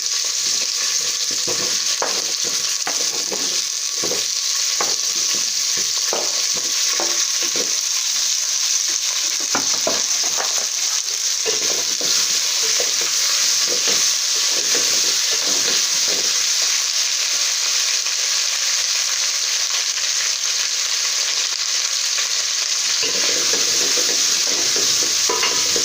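Potatoes fry loudly in a pot and are stirred throughout, giving a dense, continuous close-up crackle with repeated scraping and clattering strokes.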